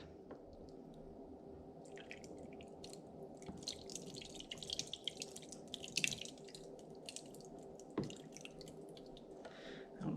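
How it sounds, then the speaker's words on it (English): Wet sloshing and dripping of paper pulp poured into water for papermaking, with scattered splashes and squishy drips, quiet and close. "I'm then going to take my paper pulp and pour it in."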